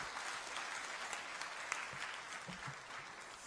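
A church congregation applauds during an evening service. The clapping is soft and distant and stays continuous for a few seconds.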